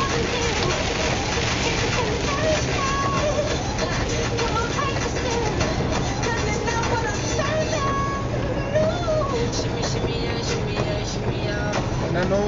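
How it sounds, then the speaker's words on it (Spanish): Rain suddenly starts falling as a vehicle drives into a storm, a dense, steady hiss of drops under ongoing voices. "De la nada empieza a llover."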